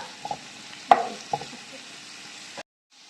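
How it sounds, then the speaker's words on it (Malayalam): Sliced onions with salt sautéing in a pan, a soft sizzle under a few sharp spoon knocks and scrapes as they are stirred, then sudden silence. "നമുക്ക് കുറച്ച് ഉപ്പിട്ട് കൊടുത്തിട്ട് ഇളക്കാം"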